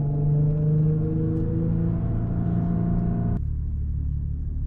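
A supercharged Audi V6 drones steadily at cruise from inside the car, a loud, even engine rumble with low harmonics that drops abruptly in pitch and level near the end, as if the driver eased off the throttle.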